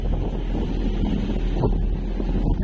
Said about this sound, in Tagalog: Grabe yung hangin dito mga kabising, oh.